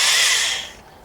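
Electric drill powered from an XTAR YW500 portable power station whirs loudly and up close for a moment, then winds down and fades as the unit cuts out.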